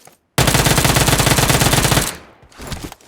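Automatic gunfire in the mobile battle-royale game PUBG Mobile rips out as one loud, rapid, close burst of nearly two seconds, followed by a few softer trailing shots.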